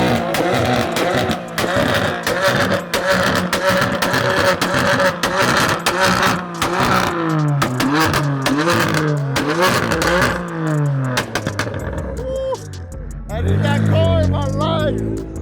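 A loud Nissan 370Z revs hard at a car meet, with repeated sharp rising and falling blips, crackles and pops; voices and crowd noise mix in, and a short quieter gap comes before a final roar.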